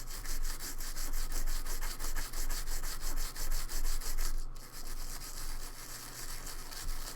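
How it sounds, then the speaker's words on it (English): A toothbrush scrubs paint off a customized figure in steady, close back-and-forth strokes that run continuously without pause. "I'm going to keep scrubbing on this guy with my toothbrush."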